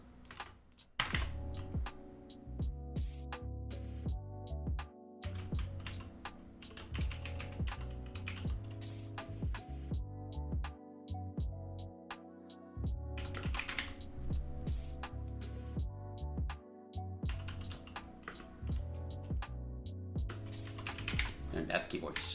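Fingers type on a computer keyboard in a rapid, uneven clatter of close key clicks that runs throughout, layered over steady background music.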